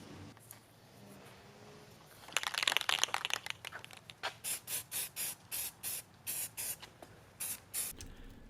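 Short bursts of aerosol spray paint coat a van's steering knuckle after wire wheeling, a longer hiss followed by a steady run of evenly spaced close spray pulses.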